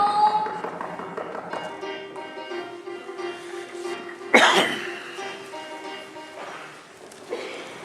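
Sneeze during a stage play, a school production of Alice's Adventures in Wonderland: one sharp, explosive burst at mid-clip over a busy stage background with musical tones, followed by a softer thud a few seconds later.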